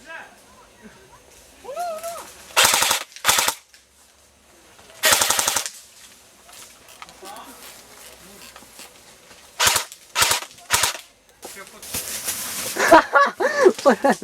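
Bursts of rapid gunfire from a shooting game come in several short volleys, with excited voices talking and shouting in Ukrainian between them.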